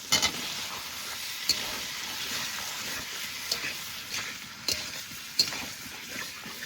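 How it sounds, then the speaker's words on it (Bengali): Fried potatoes stirred into a sizzling spice mix in hot oil for a katla fish curry, a constant bright frying hiss punctuated by scraping, clattering stirs of a spoon against the pan, close and alone. "এবার ভেজে রাখা আলু এই মশলার মধ্যে দিয়ে দেবো।"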